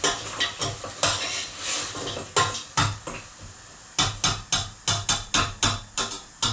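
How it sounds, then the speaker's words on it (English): A spoon stirs sweet corn through a spicy Mexican bean soup in a pot, giving a run of sharp, close scrapes and knocks in bursts, then a steady rhythmic series of clacks against the pot. "Give that a bit of a mix around."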